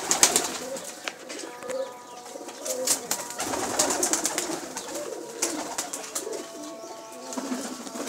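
High flyer racing pigeons coo in soft repeated throaty calls, with occasional wing flutters and scattered bird sounds around them at moderate distance.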